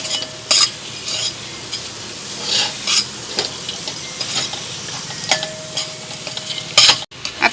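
Masala sautéing in hot oil for a green tomato curry, a steady sizzle broken by repeated scrapes and clinks of a spoon against the pan, close and fairly loud, with no talking.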